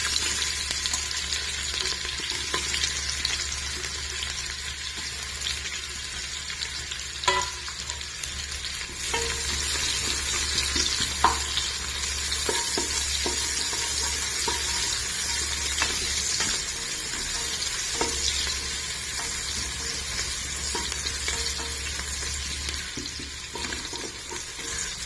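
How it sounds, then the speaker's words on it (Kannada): Onion frying in hot ghee with cumin for a pulao: a steady, close sizzle runs throughout, broken by scattered clicks and scrapes of stirring, with no voices. "ತುಪ್ಪ ಬೆಚ್ಚಾಗಿ ಬೊಕ್ಕ ಜೀರಿಗೆ ಬರಲೆ ಅದಕ್ಕೆ ನೀರುಳ್ಳಿ ಪಾಡ್ಲೆ"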